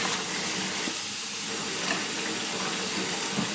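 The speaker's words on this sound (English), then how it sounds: "I know I shouldn't have the water running this whole time" Water runs steadily from a kitchen tap in a van while Brussels sprouts are rinsed, a constant close hiss and splash with no talking.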